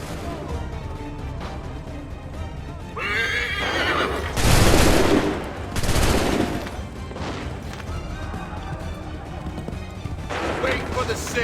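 Two loud gunfire blasts burst out in the middle of an Assassin's Creed 3 battle cutscene, surrounded by a horse neighing loudly and people shouting.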